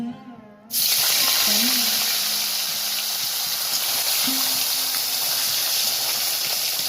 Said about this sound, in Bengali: মাছটাকে আমি হালকা করে ভেজে নেব।